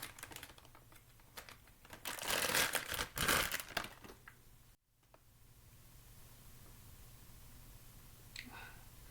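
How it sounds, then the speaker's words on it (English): Crinkly, rustling clicks of plastic twist ties being pulled off a charging cable for a Voxelab Proxima SLA 3D printer, a dense close burst of crackling that fades into quieter fiddling. "Why do these zip ties have to be so hard? I hate these twist ties"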